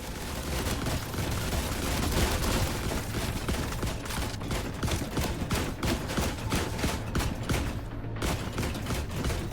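Rapid, loud rifle fire in The Last Caretaker, a dense string of sharp repeated shots with mechanical clatter running continuously from start to finish.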